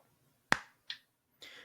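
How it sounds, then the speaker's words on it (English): Three sharp, isolated claps of a single weak hand clap, each a quick crisp smack followed by a short fading tail, spaced out over a quiet background with no talking. "That was this weak clap."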